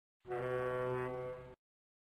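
A single deep, sustained ship horn blast about a second long, rich and droning, then silence.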